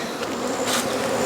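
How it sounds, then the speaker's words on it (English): Honey bees swarm and hum steadily in an open hive box, a dense close buzz filling the whole moment with no voices over it. "it's a box of bees, y'all"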